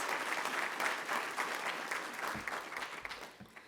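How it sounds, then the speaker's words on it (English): Audience applause at a university student affairs hooding ceremony, dense steady clapping from a crowd filling the room, gradually thinning toward the end with a few voices faintly mixed in. "So yes, let's clap for that."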